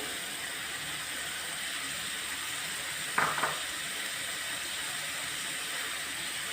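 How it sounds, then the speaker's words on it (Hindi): Chana dal and boiled potatoes frying in spices with green chillies and coriander in a pan, a soft continuous sizzle with one brief clatter of stirring midway, no talking. "अच्छे से अब फ्राई करनी है आपको मसाले के अंदर दाल"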